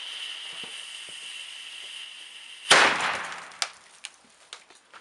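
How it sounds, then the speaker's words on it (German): A Weco Super-Böller 2 firecracker outdoors: a steady fuse hiss runs, then a single powerful bang rings out with a lingering echo, followed by several smaller clattering pops as debris settles. "Super-Böller 2."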